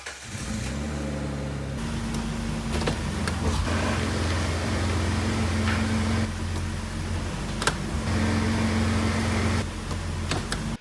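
A totaled Jeep's engine cranks and catches, then settles into a steady low idle with rumbling harmonics, close and loud throughout, with a few brief knocks and clicks and no talk.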